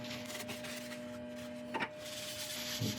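Abrasive paste is rubbed onto spinning laburnum wood on a lathe, a faint, steady scuffing hiss over the motor's low hum, with a brief louder rub near the middle.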